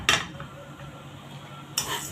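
A spoon scraping and clinking in a pot while stirring cumin, coriander, chili and salt for Egyptian koshari, two sharp metallic strokes framing a quieter stretch with a faint sizzle underneath.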